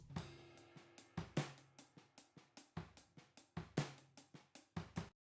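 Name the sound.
drum overhead mics recording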